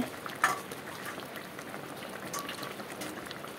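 Egg curry gravy for Bengali dim chachchari simmers in a pan, giving a low, steady bubbling with soft pops and one sharper tick early on, heard alone and fairly faint.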